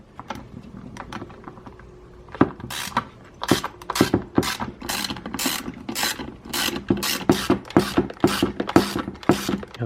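A ratchet rapidly clicks as it backs out T30 Torx screws from a Saab 9-3 steering wheel, with bursts of close, loud, crisp pawl clicking broken by short pauses and a few lighter taps at first.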